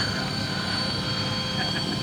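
A Sikorsky UH-34D Seahorse helicopter in flight gives a steady, loud droning rotor and piston-engine roar that holds evenly throughout the short stretch, with faint talk mixed underneath.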